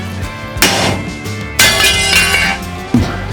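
Three loud, sharp metallic strikes of a hammer on metal, spaced about a second apart, each ringing briefly before the next blow, during restoration of a vintage Nationwide trailer.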